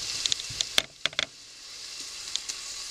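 Food fries in a pot with a soft, hissing sizzle broken by several sharp spits and pops, the sound briefly dipping away before the hiss returns.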